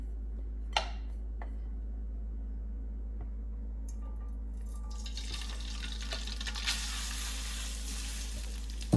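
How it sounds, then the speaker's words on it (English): Dry spaghetti dumped into hot oil in a skillet for Spanish-style pasta sets off a bright, spreading sizzle that builds and crackles steadily after a couple of soft knocks, with no talking. "I'm gonna grab my spaghetti and I'm gonna dump it in here"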